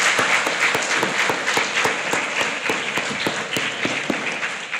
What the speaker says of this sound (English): let's put our hands together and give our teachers a real wonderful round of applause